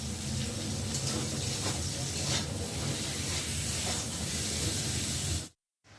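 Vegetables for Bengali sukto frying one batch after another in hot oil in a kadai, giving a steady, loud, even sizzling hiss throughout before it cuts off abruptly at the end.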